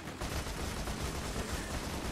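Continuous loud gunfire from a vehicle in Borderlands 2, a dense unbroken burst of rapid shots filling the whole stretch with no voices.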